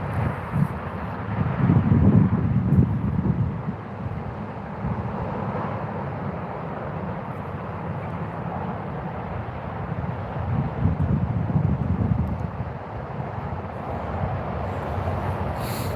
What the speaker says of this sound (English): hopefully this wind dies down a little bit